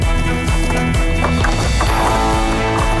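Swamp buffalo crowd a wooden pen that shakes as they jostle to get out, and their hooves thud and clatter hard on the boards in a loud, irregular stamping that goes on throughout.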